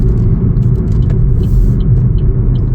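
A Chevrolet Trax 2RS SUV driving on the road, heard as a loud, steady low rumble of cabin and road noise with no speech.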